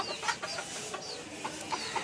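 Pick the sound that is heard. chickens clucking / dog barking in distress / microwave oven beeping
chickens clucking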